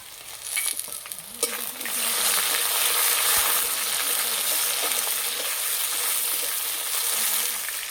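Tomato hits onions already fried light red for a potato and cauliflower dum, and a loud, continuous sizzle swells up after a brief quieter start, with some stirring scrapes and no voices.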